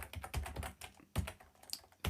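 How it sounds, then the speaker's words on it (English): Close, quiet typing on a computer keyboard while an IP address is entered, with a burst of quick keystrokes, a short pause, then a few more taps. "I'm going to type in an IP address"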